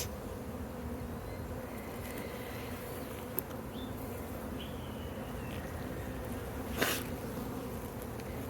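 A dense, continuous buzz of many honey bees on a hive frame fills the space, steady and close, with an occasional faint tap.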